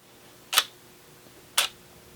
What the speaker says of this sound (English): It's opening that shutter for 1 second.